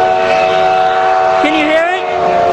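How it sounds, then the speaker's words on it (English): Durango and Silverton steam engine 466 arriving at the station, a steady loud whistle-like tone held throughout with a pitch bend partway, while a voice talks over it. "The train is coming."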